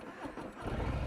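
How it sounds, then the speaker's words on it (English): Harley-Davidson Breakout motorcycle engine firing up, a close, loud low rumble that swells and steadies into a rough idle after about half a second, with no voices. "Sounds like an old truck engine just firing up."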